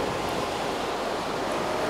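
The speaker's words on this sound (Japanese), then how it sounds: "空、今日も鳴っている。 歯をむき出してお前を脅かすつもりで、浅はかな海がね" Sea waves roar in a continuous broadband wash, moderately loud and steady with no voices over it.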